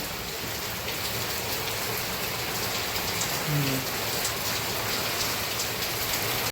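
Heavy rain pours steadily and loudly at an outdoor fair, a dense continuous hiss of drops hitting surfaces, with a faint voice buried beneath it.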